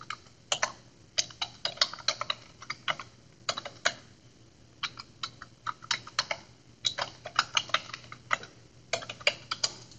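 A password is typed on a computer keyboard in quick bursts of crisp, close key clicks, with short pauses between the runs and a quiet room hum underneath.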